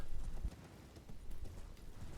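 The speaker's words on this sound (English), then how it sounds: "Horse buck, 3 seconds lost." Horse hooves clip-clopping in the video game Elden Ring as the horse bucks, a short burst of thudding steps up close with faint background hiss.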